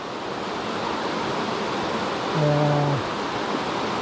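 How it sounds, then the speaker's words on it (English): High-running Hazel Creek at a backcountry trail crossing gives a steady, loud, rushing hiss of flowing water throughout. A brief tonal hum rises over it midway. "this is the water crossing at the end of Cold Spring. And this is Hazel Creek. And it is pretty high."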